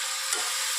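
Peanuts sizzle in hot tempering oil for Kutchi khari bhat, a brief, bright, loud hiss heard up close.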